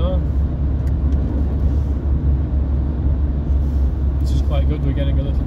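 A car cruising steadily on a motorway at 70 mph, giving a loud, continuous low road rumble and engine drone from inside the cabin, with someone talking over it.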